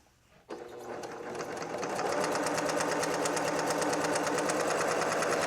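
A sewing machine starts up and runs continuously, stitching fabric strips for a patchwork tote bag with polyester thread, a close, rapid, even mechanical whir that steadies after the first second.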